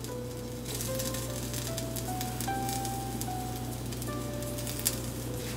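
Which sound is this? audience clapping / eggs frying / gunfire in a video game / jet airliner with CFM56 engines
eggs frying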